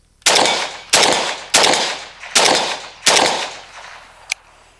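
Five loud, evenly spaced shots from a Century Arms Romanian RPK rifle with a slant muzzle brake, each with a sharp crack and a short decaying tail, and a small metallic tick near the end.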